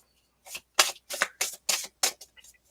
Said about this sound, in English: So I appreciate the patience while I shuffle all of these up.